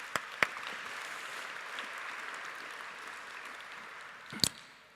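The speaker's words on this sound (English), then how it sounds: "I think that we should give everybody an applause" A conference audience applauds, a dense wash of clapping that holds steady throughout, with a few sharp, close knocks at the start and again near the end.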